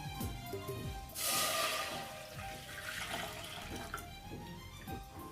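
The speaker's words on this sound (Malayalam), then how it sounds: "1 കപ്പ് 2/2 പാൽ ഒഴിച്ചു കൊടുക്കാം." Coconut milk poured into a pan for a Kerala pidiyum palum dish: a short, rushing liquid pour swells in the middle and then settles into quieter trickling and kitchen noise.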